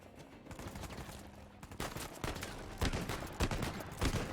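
Gunfire in the video game Uncharted 4: A Thief's End, a string of sharp shots going off one after another. It starts in the background and gets louder and denser, with no talking.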